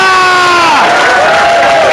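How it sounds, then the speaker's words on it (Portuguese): A church congregation applauds and shouts in victory during worship, a loud, dense roar of cheering and clapping with high voices whooping over a held musical tone. "Mais forte este aplauso, dê um grito de vitória"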